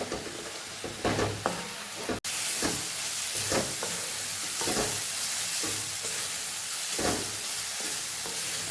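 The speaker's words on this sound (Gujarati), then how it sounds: "બધું સરસ મિક્સ કરી અને આપણે સાતડી લેવાનું છે" Spices sautéed in a pan for Kathiyawadi-style green onion khariyu, giving a loud constant sizzle with repeated spatula strokes and scrapes in an uneven rhythm and one brief dropout, no talking.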